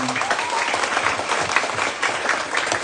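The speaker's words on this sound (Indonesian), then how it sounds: "Luar biasa, tepuk tangan." Children at a school flag ceremony with the local police chief clap together in a steady, full burst of applause lasting a few seconds, outdoors and fairly loud throughout.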